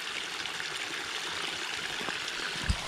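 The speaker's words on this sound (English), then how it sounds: "there's a little bit of turbulence, but it's just nice flowing water" Water rushes steadily down a pondless waterfall stream, a continuous close splashing and gurgling wash with a small thump near the end.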